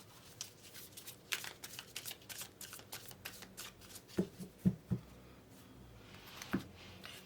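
Tarot cards being shuffled by hand, a run of quick riffling and flicking bursts with a few sharper snaps toward the end, close and fairly quiet, with no voices.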